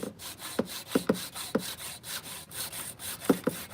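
A hand saw cuts through PVC pipe in steady back-and-forth rasping strokes, close and moderately loud, with no talk.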